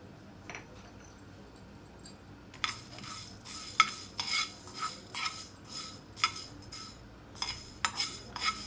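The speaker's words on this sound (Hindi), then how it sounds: "अब सबसे पहले हम लोग साबित धनिया को इसमें रोस्ट कर लेते हैं" Whole coriander seeds are dry-roasted in a hot pan and stirred with a metal utensil, giving a quiet crackle broken by a run of sharp scraping and clinking strokes close by.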